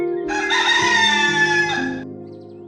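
A rooster lets out a single long, loud cock-a-doodle-doo, close and rich in tone, then falls quiet into near silence.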